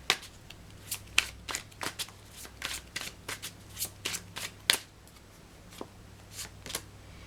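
Tarot cards are shuffled by hand in a series of sharp, crisp riffles and slaps, close and fairly loud, with uneven gaps between them over a quiet background.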